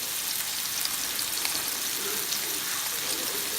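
Turkey meat frying in a pan gives a steady, dense sizzle that holds at an even level throughout, close by and with no talking.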